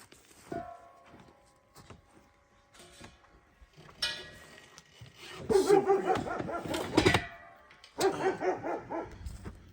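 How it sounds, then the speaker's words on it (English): A dog barks in bursts, several sharp barks clustered near the middle and end, fairly close and loud, with quieter pauses between. "What's she barking at?"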